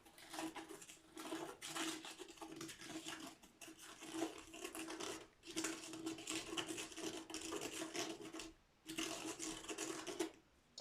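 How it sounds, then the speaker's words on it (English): A small batch of cement, two heaped tablespoons with a little water poured in, stirred in a container: continuous gritty scraping and sloshing in close, busy bursts with two brief pauses, and no voices. "And then I'm going to pour in a little bit of water and mix it up."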